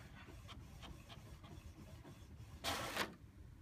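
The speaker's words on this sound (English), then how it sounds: "This is going to take a lot of time to print all of these out." An inkjet-style printer prints images onto photo gloss paper, giving a low, quiet mechanical whir with faint rhythmic passes and one louder hissing swipe near the end, with no talking.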